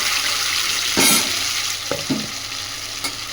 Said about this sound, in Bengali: এটা যখন খুব ভালোভাবে ভাজা হয়ে যাবে একটা গন্ধ উঠবে